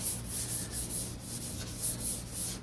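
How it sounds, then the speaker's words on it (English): Hand sanding of glaze filler on the deck lid of a 1969 C3 Corvette, a steady scratchy rubbing made of repeated back-and-forth strokes, close up and moderately loud, with no talking. "sand off that top"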